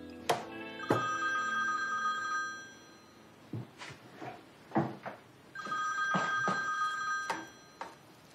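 Mobile phone ringing from a jacket pocket, a repeated electronic ringtone melody in clear bursts with short gaps between them, fairly close and loud.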